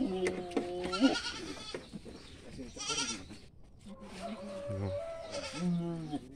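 Goats being raised and fattened for Eid al-Adha bleat repeatedly close by, several wavering calls overlapping with someone talking and background farm noise.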